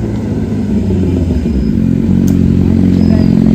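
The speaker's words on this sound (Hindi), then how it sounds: "हैवी बाइक भी आ रही है" A heavy motorcycle arrives with a steady, loud low engine rumble that builds slightly toward the end, close by and with no talk over it.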